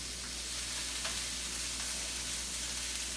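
Broccoli sizzles softly in a pan alongside chicken, a quiet, even frying hiss with faint crackles and a low steady hum underneath, no talking.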